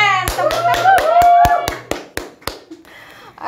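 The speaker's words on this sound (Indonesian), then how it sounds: "Tepuk tangan." Roughly a dozen sharp, evenly spaced claps ring out close by during a campus motivational chat, while a voice talks over the first half before the clapping thins and trails off.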